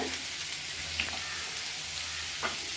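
Onion and ginger fry in a pan with a steady, soft sizzle throughout, broken by a couple of brief scraping stirs near the start and end; no voices.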